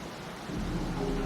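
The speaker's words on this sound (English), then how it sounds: "Something's wrong with this rain." Rain and rolling thunder from the Wuthering Waves video game, a steady low rumble that swells louder halfway through, with no talking.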